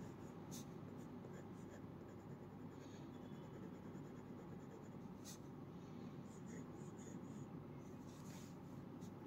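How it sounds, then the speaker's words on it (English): A Jinhao Heritage 9056 fountain pen with a fine nib scratches softly across paper in close, continuous strokes, quiet and steady with small tapping pauses. "Superb writing experience. Reverse writing is equally smooth."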